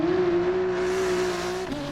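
A race car engine in Gran Turismo 7 holds a loud, steady high-pitched drone, then drops in pitch briefly near the end as if shifting or easing off.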